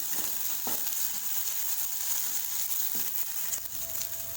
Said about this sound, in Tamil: இஞ்சி பூண்டு பேஸ்ட் சேர்த்து நல்லா மிக்ஸ் பண்ணி விட்டு இஞ்சி பூண்டு பேஸ்ட் போட்டால் பச்சை வாசனை போகிற அளவுக்கு நல்லா வதக்கி விட்டுருங்க